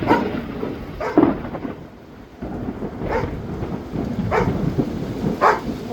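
Thunder rumbles low and steady through a rainstorm on a farm with a pond, the deep rolling swelling and easing over several seconds with a few faint higher-pitched barks from a dog in the background.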